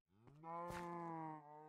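A cow in the Minecraft modpack Agrarian Skies gives a single clear, drawn-out moo, close and alone without talk.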